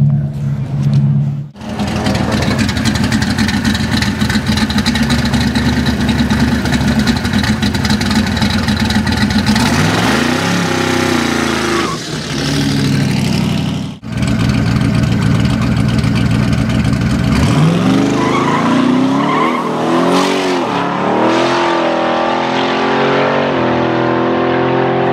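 A Honda VTEC car engine screams at high revs at the Hvidovre race track, a loud, sustained howl with a couple of brief dips and rising, falling pitch sweeps as the car shifts and accelerates.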